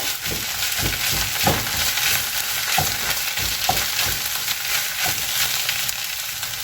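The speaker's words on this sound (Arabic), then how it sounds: "صافي هنايا راني خليته تشحر مزيان" Food, a spinach filling for homemade ricotta ravioli, browning in a hot pan, a loud steady sizzle and crackle with periodic stirring scrapes, close up and without talk.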